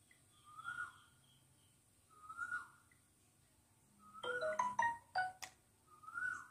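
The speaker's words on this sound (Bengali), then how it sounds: "আপনারা দেখেন কত সুন্দর পাখির ডাক।" Birds call outdoors, clear whistled notes repeating about every second and a half, with a brief flurry of quick chirps near the end, fairly faint against a quiet background.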